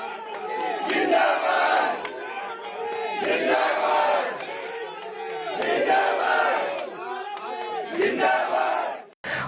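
A large crowd in India chants slogans in loud, rhythmic unison, with repeated surging bursts of shouting at steady intervals and a brief cutoff just before the end.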